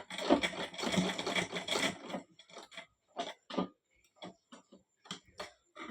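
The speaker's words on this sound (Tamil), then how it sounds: "இப்படி தையல் திருப்பி திருப்பி தையல் போட்டுக்கோங்க." A sewing machine back-stitching on a pair of briefs in a tailoring workshop: a dense run of rapid stitching, then short separate bursts as the seam is sewn back and forth, close and clear with no talk.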